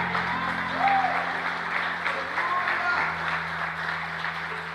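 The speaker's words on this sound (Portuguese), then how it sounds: "Você pode aplaudir a Ele porque Ele merece." Church congregation clapping during a sermon, a steady wash of applause held at moderate level over a sustained low instrumental drone, with faint voices mixed in.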